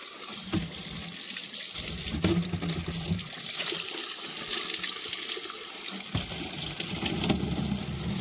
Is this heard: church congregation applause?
no